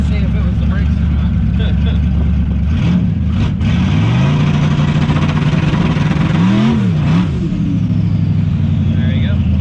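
A twin-turbo 1969 Chevrolet Camaro engine idles roughly with low rumble, then revs up and down a few times, close by, with people talking over it.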